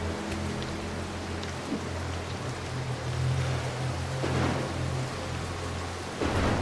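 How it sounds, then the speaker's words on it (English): Thunder and rain in the video game Mark of the Ninja: a continuous hiss of heavy rain with low rumbling thunder rolling through, steady and fairly loud, with no talk. "That lightning, man, I hate it."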